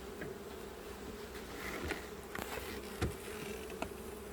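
Honey bees buzzing steadily during a hive inspection, a dense continuous drone close by with occasional faint knocks and handling sounds, no talking.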